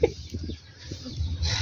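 Chickens cluck softly at close range in a rural yard where chicks are kept, with a few short low calls spread across a brief moment and no talk.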